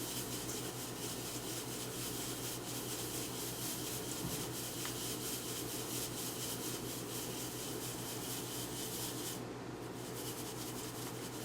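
Dry cake mix ingredients, flour and lumps, being sifted through a sifter, a steady soft close-up rubbing and scratching hiss that continues evenly throughout without pause.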